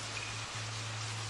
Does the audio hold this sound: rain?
yes